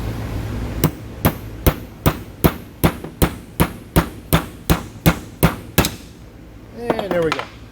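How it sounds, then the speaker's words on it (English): A siliconed part is worked loose from an NV231/NP231 transfer case with about fifteen sharp, evenly spaced metallic taps close by, followed by a brief rattling clatter as it comes free. "So this thing is siliconed in there, does not want to come out, so let's see if we can pry on it a little bit."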